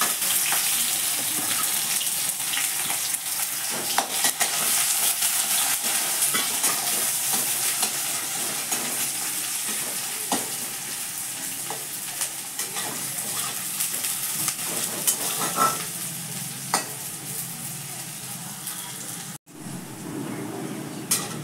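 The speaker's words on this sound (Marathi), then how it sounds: "आता आपला हा कांदा भाजत आलेला आहे" Chopped onion with curry leaves frying and being stirred in a pan for green beans bhaji, a steady soft sizzle with scraping stir strokes, a brief drop near the end.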